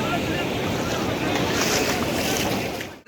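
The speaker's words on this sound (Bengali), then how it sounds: "আসলে অনেক অনেক ঢেউ।" Sea waves roll onto the beach at Cox's Bazar, a continuous broad rushing wash mixed with heavy wind buffeting the microphone, loud and steady throughout.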